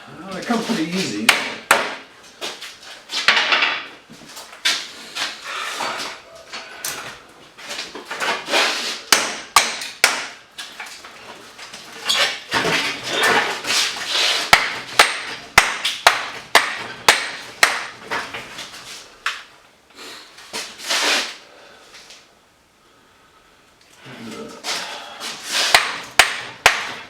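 Repeated hammer blows beating copper windings out of a large commercial transformer being scrapped, sharp irregular metallic-wooden knocks in bursts with short pauses, close and loud, with a voice talking intermittently between strikes.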